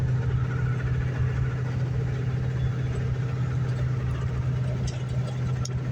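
A truck engine idles in a low, steady rumble, loud and close, unchanging for several seconds with no voices.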